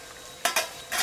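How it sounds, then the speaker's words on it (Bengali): Rohu fish pieces drop into a pan with potatoes in a home kitchen, giving three short, loud sizzling bursts of hot oil and a clatter against quiet background. "আলু সিদ্ধ হয়ে গেছে, এবার মাছ তুলে দিচ্ছি।"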